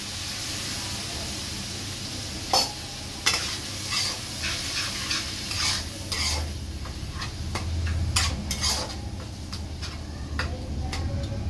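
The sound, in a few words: spice paste frying and stirred in pan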